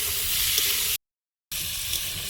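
Beans frying in a wok give off a steady, close sizzle that runs unbroken, apart from a short gap of total silence partway through, with no voices.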